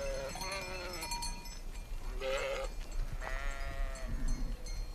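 A large flock of around 900 sheep bleat on an alpine summer pasture below the Dachstein, several overlapping calls near and far over a steady outdoor rumble, with a cowbell clinking faintly.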